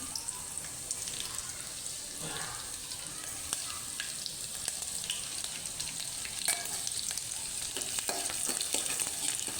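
Cumin seeds and garlic sizzle in hot oil while a Maharashtrian methi and moong dal sabji is being made, giving a steady, close frying crackle with brief stirring scrapes throughout.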